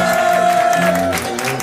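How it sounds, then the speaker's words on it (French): At a French rap cypher, an audience claps and cheers over a held tone and voices, a short loud burst of applause. "Applaudissements pour Sébastien Le Gall, la famille."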